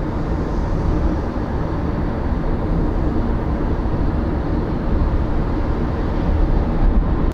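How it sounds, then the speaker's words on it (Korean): Cabin noise inside a 2026 Kia K5 driving at 80 km/h: a steady, even roar of road and wind noise that holds at constant loudness throughout, with no voices. "현재 시속 80km로 주행 중이고요"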